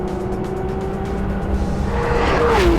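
A Porsche GT3 RS Weissach climbing onto the throttle out of a corner on track, its engine note rising in pitch toward the end of a short, loud stretch of steady driving noise.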